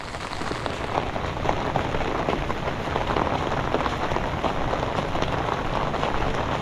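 Heavy typhoon rain falls steadily, an unbroken wash of patter and splashes on a hard surface throughout, with no talking.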